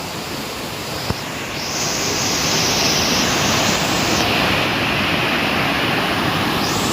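Steady roaring rush of a waterfall at a Darjeeling sightseeing spot, a loud continuous broadband wash of falling water that swells slightly after the start and holds constant, with no voices.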